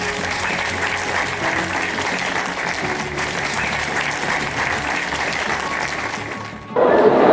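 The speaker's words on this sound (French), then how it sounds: "C'est maintenant que vous pouvez acclamer." A hall audience bursts into sustained, dense applause to welcome new medical students at a faculty of medicine, steady and full throughout before a louder, closer swell at the very end.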